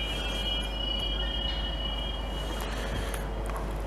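Freight wagons carrying raw materials for rails roll through the Le Bourget gravity hump yard, a steady rumbling clatter with a thin high wheel squeal running over it, moderately loud, with no talk.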